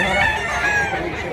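A three-year-old gamecock rooster in Mantalungon, Cebu crows loudly and close, one sustained, strained call filling the whole moment.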